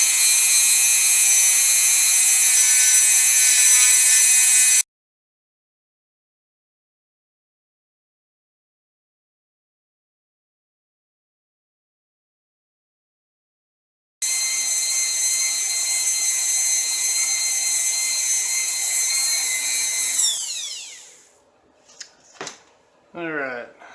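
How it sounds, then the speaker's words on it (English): A wire wheel cleans the nozzle of a Prusa i3 clone 3D printer with a loud, steady, high-pitched whirring whine. After a gap of silence the whine returns, then spins down, followed by a few faint clicks. "very important whenever you're doing any kind of wire wheel work is to wear your safety glasses."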